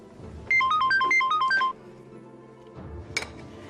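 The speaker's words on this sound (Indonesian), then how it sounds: "SMS dari siapa, Dit?" Mobile phone SMS notification tone: a loud run of quick electronic melodic beeps lasting about a second, then a single short chime a moment later, heard alone in a quiet room.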